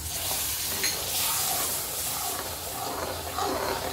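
Milk is poured into a hot, ghee-roasted besan mixture for ladoos with the heat switched off, and the mixture gives a steady, close sizzle and hiss with some stirring noise.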